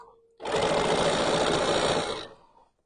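A sewing machine stitches quilt blocks together in one continuous, rapid whirring burst of about two seconds, close and clear, then winds down to quiet.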